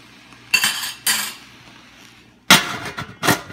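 A utensil clinks against a pot while wilting greens are stirred over medium-low heat, four sharp close knocks in two pairs separated by quiet.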